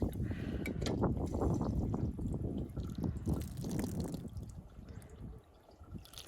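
Well water gushing from a newly installed cheap hand pump at an off-grid property, a steady loud splashing outflow that runs continuously and eases slightly toward the end.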